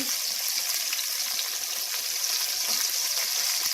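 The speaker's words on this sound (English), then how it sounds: "Okay, everybody, so now I'm sauteing my meat, and it's been browning." Pork searing and sautéing in a pan on medium heat for Italian-style roast pork, giving a steady, dense, close sizzle and crackle throughout with no talking.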